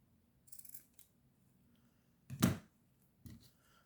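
Scissors cut jute, lace and wool craft material for a Christmas decoration in a few quiet, close snips, one stroke louder and fuller than the rest, with no speech.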